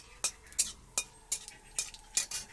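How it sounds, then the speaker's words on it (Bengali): Dried red chilies and black cumin are stirred in frying oil in a pan, with a utensil scraping and clinking against the metal about seven times in a steady rhythm over a faint background sizzle. "শুকনো লঙ্কা আর কালো জিরেটা ভালো করে ভাজা করে নিয়ে"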